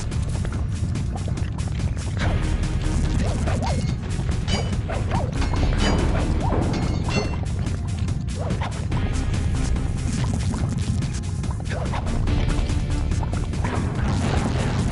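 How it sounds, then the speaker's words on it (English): A cane smashing through clockwork gears in the stealth platformer Sly Cooper: loud, dense mechanical crashing, grinding and creaking runs continuously. Repeated heavy whacks and clanks sit under a busy, full game soundtrack. "Smash through those gears with your cane!"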